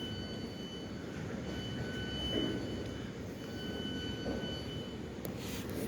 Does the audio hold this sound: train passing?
yes